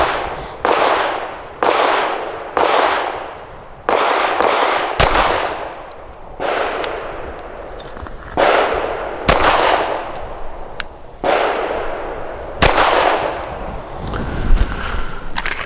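A Sig P365 XL pistol fires Sig full metal jacket rounds on a range: about a dozen sharp, loud cracks at irregular intervals, each followed by a short echoing decay, with faint metallic pings between some shots.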